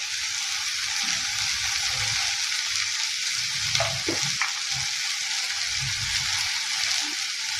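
Okra frying in a pan with spices, a steady bright sizzle throughout with occasional stirring scrapes, close and even, no speech.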